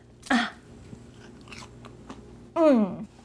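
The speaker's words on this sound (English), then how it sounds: "Can you hear that crunch? Those are crunchy." Crispy oven-baked french fries are bitten and chewed close to the microphone, giving short crunchy bursts between a couple of brief vocal sounds.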